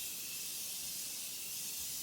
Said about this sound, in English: I'm going to spray my face with the Morphe Continuous Setting Spray.